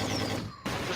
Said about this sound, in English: We're just shooting into space.